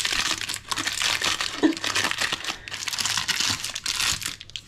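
Plastic crinkles and crackles in steady bursts as the top is cut off a container, close and fairly quiet with no talking.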